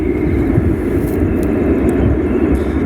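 A China Southern airliner on the runway at Guangzhou Baiyun after landing gives a loud, steady engine roar and rumble, unbroken for the whole stretch.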